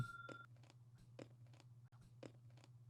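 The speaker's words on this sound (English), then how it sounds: "Oh, you're chewing into the mic." Close, crunchy chewing right at the microphone, a series of separate bites and munches over a low steady hum.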